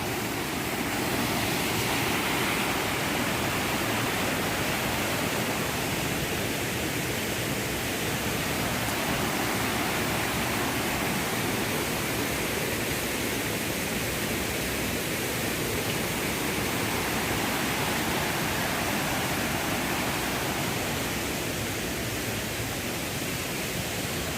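Steady broadband roar of falling water, dense and unbroken throughout, with no voices.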